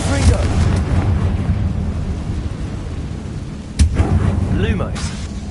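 A Confringo blasting spell in the Hogwarts Legacy video game: loud, rumbling explosive booms rolling on, with a sharp blast cracking out near the end and spoken voices mixed in.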